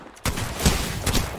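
A Mastiff shotgun fires in the Apex Legends video game, one sharp loud blast followed by another fainter report about a second later, heard up close amid game noise.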